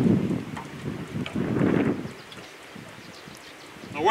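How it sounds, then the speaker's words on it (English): An east wind buffets the microphone on a jet boat during a catfishing trip, producing low rumbling gusts that are strongest early, then ease to a softer background with faint sounds. "Wind's out of the east today"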